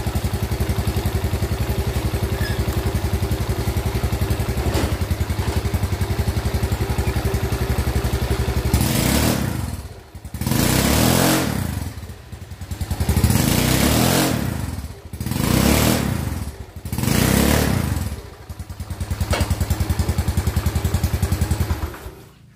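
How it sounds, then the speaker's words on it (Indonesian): A Yamaha Mio Soul scooter with a stiff, hard-to-turn rear wheel idles steadily, then revs in five or six surging bursts as it is test ridden, each rise and fall of the engine close and loud. "jadi motor ini sudah saya tes untuk jalan-jalan tipis-tipis ya"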